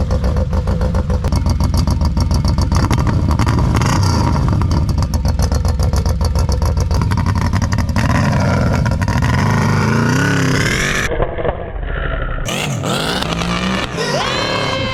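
A fast production motorcycle, a record holder fitted with a fabricated exhaust and running rough with a suspect stator, revs hard and loud for the whole stretch, its engine note rising and falling in repeated throttle blips.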